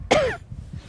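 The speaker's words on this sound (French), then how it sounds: "alors je tousse comme si j'avais une crève aussi" A single short cough or throat-clear from a woman with fibromyalgia, close and sharp, followed by faint room noise.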